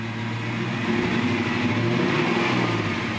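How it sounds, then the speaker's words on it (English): A 1988 Toyota Land Cruiser FJ62 with an aftermarket exhaust idles then revs with a deep, throaty exhaust rumble, steady and close, with no talking. "this doesn't sound like your typical Land Cruiser. It's got also an aftermarket exhaust system on it."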